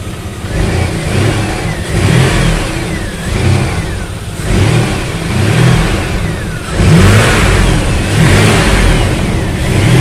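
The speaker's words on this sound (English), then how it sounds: "And let me give it gas." Chevy Astro van engine revving up repeatedly in loud, close bursts, settling back between throttle blips, with a faint whine from the serpentine belt drive over the mid-range engine drone.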